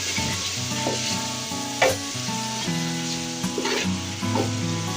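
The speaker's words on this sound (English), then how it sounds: "So at this point, let's stir to avoid it burning." Sweet potato and yam sizzle and crackle steadily in hot frying oil, with scraping stir strokes at intervals against the pan. No one speaks.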